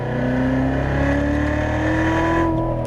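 Corvette C7 Z06 accelerating on a race track, loud engine under load with a rising tone that climbs steadily through a continuous, close-up interior roar.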